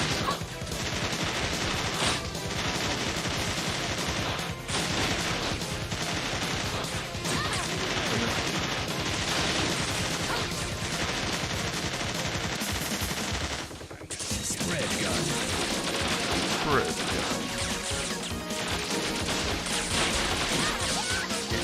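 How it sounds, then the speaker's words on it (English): Rapid machine gun fire in the shooter game Bot Vice, a dense, continuous loud rattle layered with crashes and impacts, pausing briefly near the middle before resuming at full intensity. "Machine gun."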